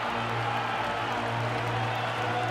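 Crowd noise at a Chicago Cubs baseball game against the Arizona Diamondbacks with bases loaded, a steady broad roar of fans swelling under a sustained tone, with no clear individual voices.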